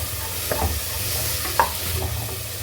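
Yellow pumpkin pieces sauté with rock salt in a pan, giving a soft continuous sizzle with a couple of sharper stirring knocks over a low background hum, close and without speech.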